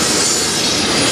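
An NS or CSX freight train passes at night in Fostoria, Ohio, a loud, continuous close-up roar of rolling cars with wheel squeal and clatter.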